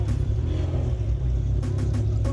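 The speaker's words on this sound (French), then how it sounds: "vu que tous les moteurs sont allumés et ils vont bientôt partir" Race car engines idle and rumble at Spa ahead of a European Le Mans Series start, a loud, continuous low drone with a few brief sharper bursts near the end and no speech.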